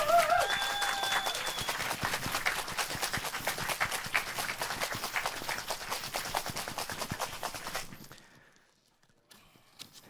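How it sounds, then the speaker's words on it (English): Audience at the BACARDÍ Legacy bartending competition semi-finals claps loudly and rapidly for about eight seconds, with a few whoops early on, then the applause stops abruptly, leaving near quiet with scattered faint claps. "to hear some applause. Come on!"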